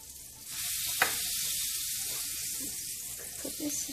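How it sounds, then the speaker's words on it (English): Butter and garlic sizzling on a hot hibachi grill, a loud continuous hiss with a sharp clack early on and light utensil taps toward the end. "I'm gonna put some butter. And garlic."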